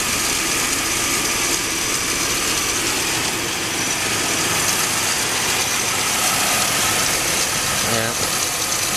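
A car engine idles steadily while its cooling system is flushed with a hose rig, a constant close hum running the whole time with faint background noise.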